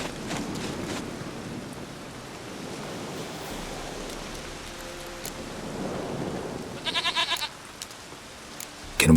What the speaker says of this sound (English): Ah, al sana Goat Francis. of mine, dearest,